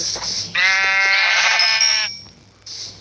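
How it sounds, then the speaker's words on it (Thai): Sheep bleating in a survival video game: a single drawn-out, wavering bleat rings out loud and close for about a second and a half, standing alone with no talking. "แกะสำคัญสุดในตอนนี้ เพราะมันจะให้ขนเรานะ"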